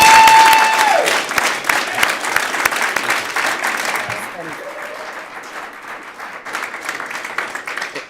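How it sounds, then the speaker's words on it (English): Applause fills a city council meeting chamber right after a motion carries, loud at first and thinning midway before swelling again, with voices talking over the clapping. "You can applaud right now"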